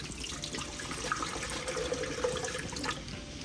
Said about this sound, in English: we're going to start by adding some coconut water.